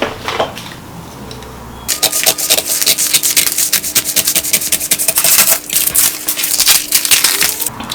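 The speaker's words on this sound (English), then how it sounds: "I'm going to go ahead and cut it." Scissors cut through a paper sleeve pattern, making steady, close crisp snips and rustling that begin after a quiet start and run on in a quick, repeated rhythm.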